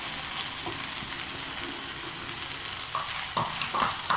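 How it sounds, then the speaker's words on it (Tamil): Grated coconut sautéed with tomato and onion in a pan for a mutton gravy, a steady close sizzle with occasional spoon scrapes and stirring knocks, no voices. "தேங்காய் போட்டு ஒரு 2 நிமிஷம் வைக்கலாம். நல்லா வதங்கி வரட்டும்."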